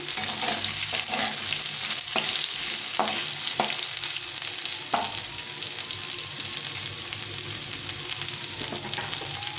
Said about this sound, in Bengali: আলুটাকে একটু ভাজা ভাজা করে নেবো